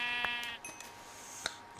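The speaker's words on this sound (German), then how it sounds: "So, Schafe haben wir, die brauchen wir nicht." A sheep bleats in the Minecraft video game, a few short nasal bleats in quick succession, close and clear with no speech.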